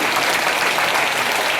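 Audience at a Ram Katha gathering applauds steadily, a continuous wash of many hands clapping together without pause or voices.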